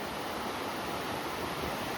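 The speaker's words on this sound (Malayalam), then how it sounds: "നമ്മൾ കണ്ട ആ ഒരു പുഴ ഇങ്ങനെ" Steady rushing water of a river flowing through an Idukki village in Kerala, an even, dense wash of sound throughout, close and unbroken, with no voices.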